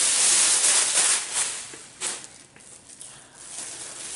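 Protective plastic film peeled off a Power-fist 7 inch bench mount wet tile saw, a close crinkly rustle and hiss in uneven pulls with short pauses.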